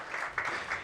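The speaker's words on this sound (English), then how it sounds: "Can we get an applause for that?" An audience applauding briefly at a graduation event, a steady patter of clapping that fills the short moment without any voices.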